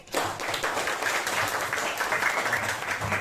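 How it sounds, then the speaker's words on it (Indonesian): Classroom of students applauding together, a dense burst of clapping that holds steady for a few seconds, loud and close. "Aplaus dulu tuh"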